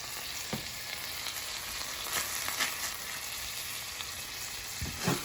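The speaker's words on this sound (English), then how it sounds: "We're gonna add a nice big knob of butter. We're gonna keep that moving." Cod frying in a pan with butter and parsley: a steady, soft sizzle runs throughout while a utensil stirs it, with a few light knocks against the pan and no voices.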